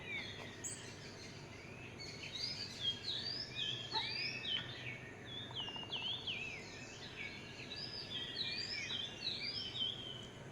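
Several birds sing and chirp in overlapping high, warbling phrases, moderately close, over a steady hum of insects; no talking.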